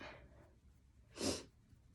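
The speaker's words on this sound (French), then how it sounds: "j'ai reniflé, c'est très impoli" A single short, sharp sniff through the nose, close up, in an otherwise quiet moment.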